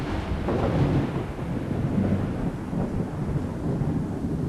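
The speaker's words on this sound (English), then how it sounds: "It just seems like, let's have thunder all the time." Thunder in Fallout 4 rolls in a continuous low, rumbling wash with rain-like hiss on top, loud and steady throughout with no talk.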